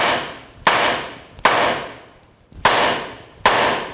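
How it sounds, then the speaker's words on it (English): Hammer blows against the outer tie rod end on a Ford F-250 pickup, struck to break it free: four loud, sharp metallic strikes at a slow, uneven pace, each ringing out briefly before the next. "just hit along here with the hammer until it breaks free"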